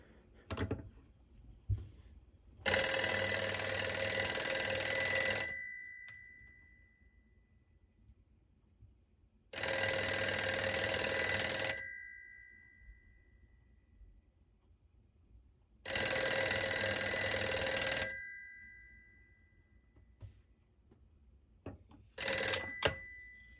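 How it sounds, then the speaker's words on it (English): An old-fashioned rotary telephone bell rings loudly in three long bursts with silent gaps, followed by a brief final ring near the end. "the best part is to hear it ring"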